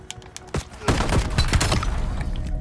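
Rapid bursts of gunfire from the video game Black Ops 7, dense and loud in a fast crackling volley after a few scattered shots, with faint game noise underneath.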